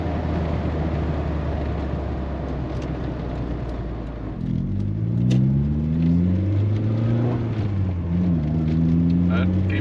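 A 1989 Volkswagen Cabriolet on the road, steady engine drone and road rumble from inside the cabin, the engine note dipping and then climbing again as it shifts into fifth gear.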